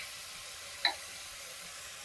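Ginger paste and chili paste hit a hot frying pan while making a paratha filling, giving a steady, faint sizzle with a brief soft crackle partway through.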